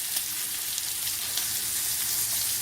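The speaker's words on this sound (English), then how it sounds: "now I'm just finishing cooking my pork chops" Boneless pork chops sizzle steadily in a pan near the end of cooking, a constant bright crackling hiss with no voices.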